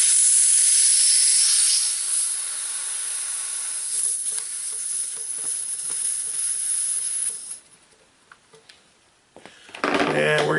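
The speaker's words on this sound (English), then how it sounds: "we're going to put some air in it" Air hissing loudly into a tire mounted on a manual tire changer, a strong broad hiss that gradually eases, cuts off for about two seconds, then bursts back on as the airflow resumes.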